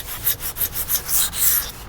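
Quick rhythmic strokes of sandpaper rubbing across puttied wood, about a dozen scratchy back-and-forth passes, close and clear.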